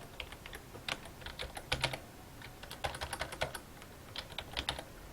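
Keys clatter on a computer keyboard in quick, irregular bursts, close and fairly quiet, with short pauses between runs of typing.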